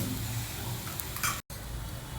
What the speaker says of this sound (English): Just add a few drops of oil and cook on the other side too.